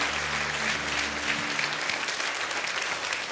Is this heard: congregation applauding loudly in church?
yes